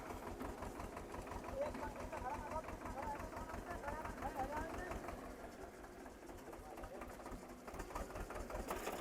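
Tractor engine running steadily at the edge of a chickpea field, a close, continuous rhythmic chugging throughout, with a voice talking over it.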